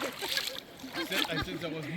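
A person stepping into a pool of water inside Son Doong cave, with soft sloshing splashes as they move, while a voice talks over the water sounds.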